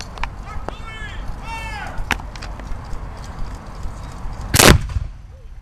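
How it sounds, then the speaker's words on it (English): A 3-pounder artillery piece fires once at a Fort York Simcoe Day historical event, a single loud, sharp blast that follows a stretch of talking and outdoor noise and then fades away. "Our artillery piece will be firing again."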